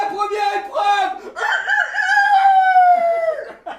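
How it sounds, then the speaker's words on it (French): A rooster crows once, loud and close, in a full drawn-out cock-a-doodle-doo that rises and then holds a long final note. "le coq a chanté"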